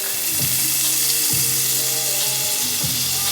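Garlic sizzles and crackles steadily in a hot pan of melted fat while pasta with salmon and asparagus is cooked, with a few louder stirring bursts over a continuous close frying hiss.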